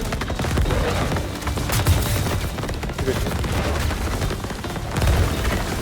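Loud, dense video game combat with grenade blasts and rapid gunfire, booms near 2 and 5 seconds standing out over continuous shooting.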